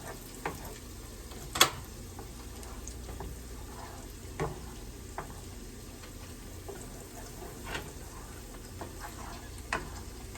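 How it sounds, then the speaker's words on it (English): Golden onions fry in a pan and are stirred, giving a faint steady sizzle with a few soft scrapes and knocks of the utensil. No voices. "Give our onions a stir."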